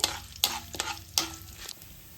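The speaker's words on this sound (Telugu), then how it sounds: "తాలింపులు మినపప్పు, శనగపప్పు, ఆవాలు, జీలకర్ర వేసుకోవాలి." Urad dal, chana dal, mustard seeds and cumin crackle in hot oil for a tempering, with close stirring scrapes and a few sharp pops over a steady sizzle.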